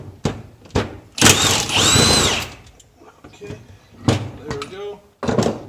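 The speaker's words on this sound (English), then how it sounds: "Okay, so now I'm taking off the tensioner" Hand tools clank and ratchet while a belt tensioner comes off a K-swapped engine in an AWD car, with bursts of metallic knocks and scraping close by between quiet gaps, no speech.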